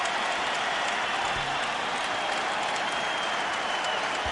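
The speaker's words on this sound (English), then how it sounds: "Doug Collins brings Michael Jordan out of the game to a standing ovation from the Staples Center sellout crowd" A sellout Staples Center crowd at a Wizards versus Lakers basketball game gives Michael Jordan a standing ovation, a loud, dense, sustained roar of applause and cheering that fills the arena without a break.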